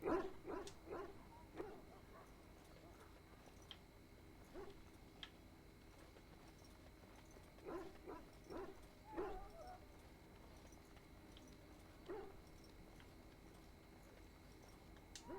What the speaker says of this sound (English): Excuse me, I must get the hounds ready for battle.